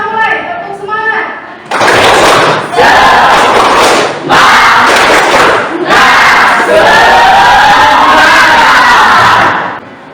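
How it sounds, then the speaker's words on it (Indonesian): A high school biology class in Indonesia performs a rhythmic spirit clap, bursts of loud group clapping and shouting in several timed blocks separated by short pauses, opening with a teacher's voice. "Kita mulai tepuk semangat."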